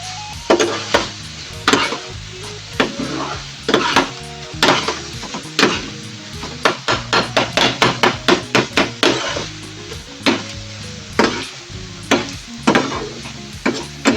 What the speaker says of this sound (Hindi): सूखी मेथी ले ली थी, वो भी हम इसमें शामिल करेंगे और इसको अच्छे से कर लेंगे हम मिक्स